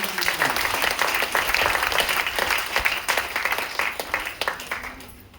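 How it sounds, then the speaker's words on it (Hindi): Audience applause at a live seminar on products, a dense burst of many hands clapping that starts strong and gradually thins and fades over several seconds. "अच्छे के लिए एक बेहतरीन और जोरदार ताली"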